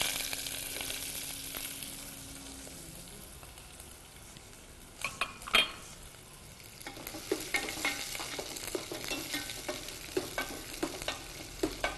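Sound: sautéing shallots with bay leaf, cinnamon and salt

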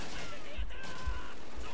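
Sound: gunfire from a submachine gun in the video game Call of Duty 2

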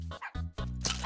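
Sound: dogs barking in Minecraft, video game

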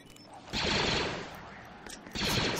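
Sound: weapon firing spread shots in Star Wars Battlefront video game

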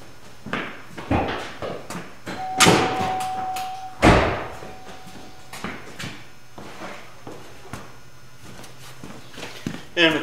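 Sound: car emergency brake being released

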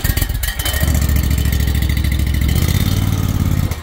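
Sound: Kubota Z422 mower engine starting and running

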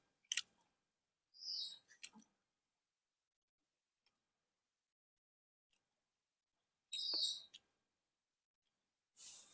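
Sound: chewing food while eating

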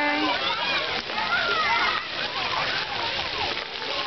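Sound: water splashing at a splash park

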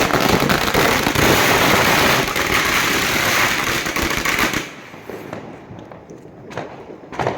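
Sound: Diwali firecrackers bursting at night

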